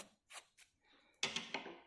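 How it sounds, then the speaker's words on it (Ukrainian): Scissors snipping paper to make a children's paper appliqué, a few quiet close cuts with short pauses, then a quicker cluster of crisp snips at the end. "за ними треба зробити розрізи. Ось так. Можна ножицями трішечки підкрутити."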